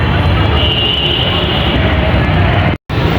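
A loud, steady rumble of a metro train running on rails near Dhaka University metro station in Dhaka fills the scene, with a brief cutout near the end before the roar resumes.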